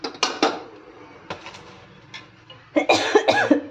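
A few sharp coughs near the start, then a louder cluster of harsh coughs toward the end, with quiet clinking between them.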